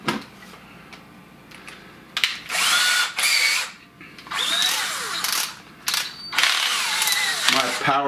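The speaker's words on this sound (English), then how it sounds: "Going to use the power drill on this" Power drill driving screws into a Kenmore dishwasher: several close, loud bursts of whining motor and ratcheting clutch, stopping and starting in short runs, with brief pauses between.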